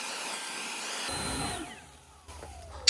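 An Ego LBPX8006 leaf blower blows leaves with a loud steady rushing whoosh that cuts off partway, then winds down, leaving quieter rustling and a sharp click at the end.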